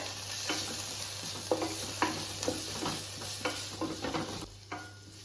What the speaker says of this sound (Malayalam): ഇഞ്ചി, പെരിഞ്ചീരകം കൂടി ചേർത്തിട്ട് വീണ്ടും ഇളക്കി കൊടുക്കാം